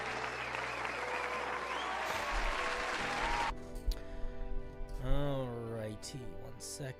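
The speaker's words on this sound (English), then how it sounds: "Let's give a round of applause for Jay Wolf." Applause from a crowd fills the first few seconds, broad and steady, then gives way to talking and other noise.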